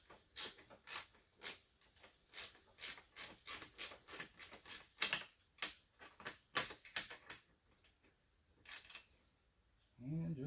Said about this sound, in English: you can hold the bracket down as you screw the bolt in